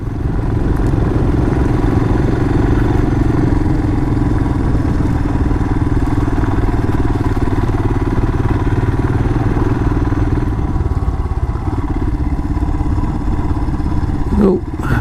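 A Royal Enfield Himalayan single-cylinder motorcycle engine labours steadily up a hill in second gear, a loud continuous thrumming drone with a faint clatter. It carries on without a break for the whole stretch, and there is no talk over it.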